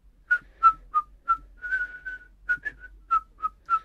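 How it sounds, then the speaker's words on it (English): Soft, gentle whistling of a short melody, a series of clear tones with brief pauses between notes, close and alone. "He whistled very softly."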